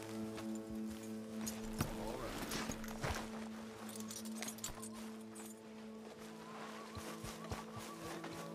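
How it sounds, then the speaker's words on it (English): Faint horse hooves clip-clopping as a horse is hitched in Red Dead Redemption II, scattered irregular steps under a steady droning game soundtrack with a voice speaking over it. "Hitching my horse"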